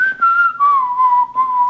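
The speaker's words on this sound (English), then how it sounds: "he was the one whistling" A person whistles a short, clear melody of sustained, gently gliding notes, close and alone with no talking.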